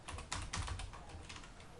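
Keys clatter on a computer keyboard in a rapid, uneven run of close, soft taps over steady background hiss.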